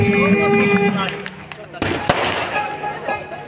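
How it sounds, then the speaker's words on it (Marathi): Sharp firecracker-like bangs of a ceremonial cannon salute burst out amid crowd noise, applause and music at a political welcome event, with one loud crack standing out partway through and chatter continuing around it. "तोफांच्या सलामी टाळ्यांच्या गजरामध्ये लोकनेते नामदार थोरात साहेबांचा सन्मान सत्कार या ठिकाणी होतोय"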